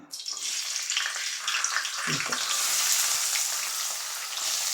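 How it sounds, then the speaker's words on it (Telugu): Onion and green chillies hit hot oil in a pan for a fish curry, erupting into a loud continuous sizzle right after a short pause and frying steadily throughout, close up. "సిమ్లో పెట్టుకుని ఉల్లిపాయ ముందు పచ్చిమిర్చి వేస్తాను"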